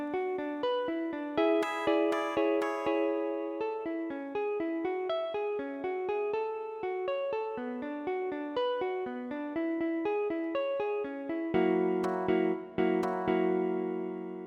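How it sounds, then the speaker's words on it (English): Guitar arpeggiating loose chords in a steady flowing pattern of plucked notes, played alone and close with a brighter, fuller strum near the end. "what the first guitar is doing is this, arpeggiating the chords"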